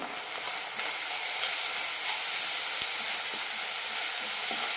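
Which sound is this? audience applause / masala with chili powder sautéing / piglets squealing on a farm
masala with chili powder sautéing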